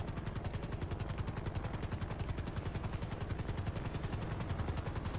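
A helicopter in a video game chops along in a steady rapid rotor pulse, continuous and fairly faint across the whole stretch with no voices over it.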